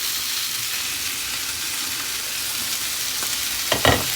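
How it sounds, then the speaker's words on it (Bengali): Fish fries in hot oil in a pan, giving a steady dense sizzle close by, with a short clatter of stirring near the end. "আর এই পাশে একটু মাছ ভেজে নিচ্ছি"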